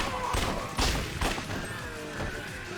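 Rapid gunfire bursts out in the zombie shooter Yakuza: Dead Souls, fired while aiming down the sights. The shots come as dense, loud volleys over a busy game soundscape.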